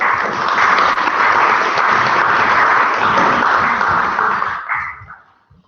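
Sustained applause from a student meeting audience for election candidates, a dense steady wash of many hands clapping for over four seconds before tapering off to silence.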